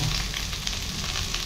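Garlic and onion fry in a pan, giving a dense, loud, even sizzle that holds steady from start to finish with no voices over it.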